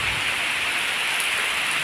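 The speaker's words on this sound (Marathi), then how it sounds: "हा बघा खूप पाऊस आलाय।" Steady, dense rain pours down continuously near Musakhaji harbour, a loud even hiss of heavy rainfall with no voices.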